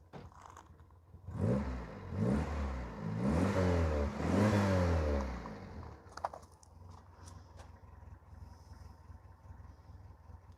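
A 1975 car engine revs up under throttle while sitting in neutral, three or four rising and falling swells close by, then settles back to a low idle.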